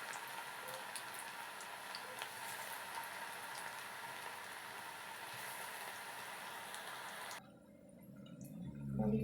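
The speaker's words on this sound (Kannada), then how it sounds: "ಕಾದಿರುವ ಎಣ್ಣೆಗೆ ಪಕೋಡನ ಬಿಡ್ತಾ ಇದ್ದೀನಿ" Onion pakoda batter sizzling in hot oil: a steady, fairly quiet bubbling hiss runs without pause for most of the clip, then drops away near the end as a low rumble comes in, with no talking.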